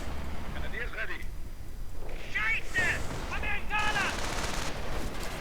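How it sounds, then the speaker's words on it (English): Armored car autocannons fire in a video game, with bursts of rapid gunfire and booms layered over constant battle noise while voices speak over the action. "Opening up on the rifleman, auto cannons."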